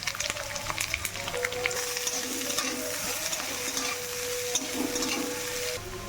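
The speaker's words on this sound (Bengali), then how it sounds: "এবারে একটা বড় সাইজের কুচনো পেঁয়াজ ওর মধ্যে দিয়ে দেবো" Steady sizzle of chopped onion frying in a pan with small fish, light stirring and scraping, continuous and fairly close, no voices.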